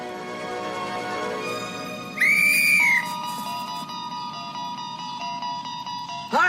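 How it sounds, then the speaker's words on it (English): A babysitter in a film sounds one loud, shrill blast on a whistle that lasts under a second and then stops. Sustained musical tones fill the background, and a brief second whistle comes right at the end. "she blows this whistle"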